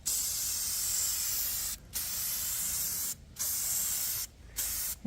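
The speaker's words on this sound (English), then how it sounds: "spray paint it" Rust-Oleum spray paint hisses from an aerosol can onto a steel tractor bucket hook in four close, steady bursts separated by short pauses.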